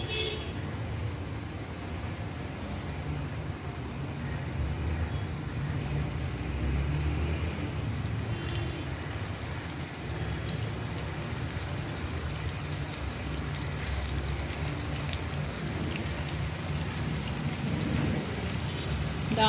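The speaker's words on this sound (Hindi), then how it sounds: "1 घंटा कबाब को मैंने फ्रीज़र में रखने के बाद अब मैं इनको फ्राई करूँगी।" Raw minced-meat kebab patties fry in a few spoonfuls of oil in a frying pan, giving a steady, dense sizzle that stays even throughout, close and with no talking.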